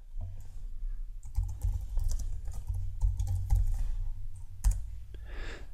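Keys clatter on a computer keyboard as a name is typed, a steady run of close, quiet clicks and taps with a brief pause near the end.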